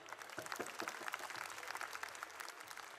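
An audience at a school prize distribution ceremony applauds children receiving their awards, a steady, fairly faint patter of many hands clapping throughout.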